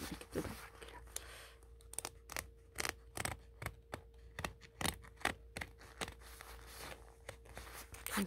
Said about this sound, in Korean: 그래서 이렇게 지금 잡고 이렇게 뜯어볼게요.